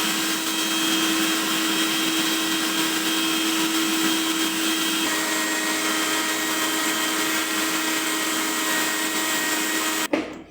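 A mixer grinder's motor whirs steadily and loudly as it blends garlic paste with oil, running for about ten seconds before abruptly cutting off.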